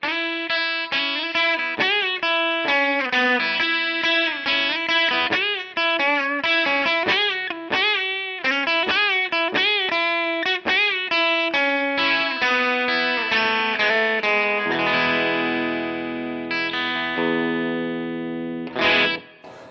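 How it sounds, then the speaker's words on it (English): Clean electric guitar lead played through an amp with a gain block boost after it, bright sustained single-note melody lines with quick picked phrases and ringing held notes, loud and close, no distortion, no speech. "Going to the clean lead sound, all that's being added to this is a gain block after the amp to just boost the volume up a little bit"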